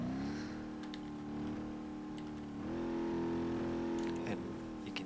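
A damaged car engine in the BeamNG driving game, running rough with a steady buzzing drone that swells slightly twice, with brief clicks and small knocks over it and a voice talking faintly.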